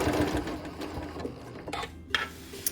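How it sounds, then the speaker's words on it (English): A sewing machine with a walking foot top-stitches curves on a quilt, giving a close, continuous mechanical whir that fades into quieter handling clicks toward the end. "I love how that presser foot pops up when you stop sewing. Seriously, best machine ever."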